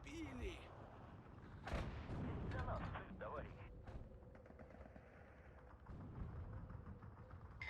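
Artillery fires in the WWII strategy game Steel Division 2, with booming shots and a rumbling burst of gunfire among mechanical clanks, mid-distance and layered under battle ambience. Someone talks over parts of it.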